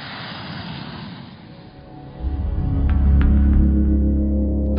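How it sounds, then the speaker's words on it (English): The Dassault nEUROn unmanned combat drone jet taxis at high speed on a runway, its engine rumble swelling midway into a loud, sustained roar as it accelerates. "During intensive high-speed taxiings, dozens of continuous accelerations and brakings are carried out"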